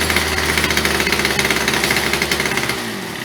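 A Titan multi tool's small engine runs steadily up close after a carburetor adjustment, a loud, rapid, rattling buzz with a fast hammering pulse that eases slightly near the end.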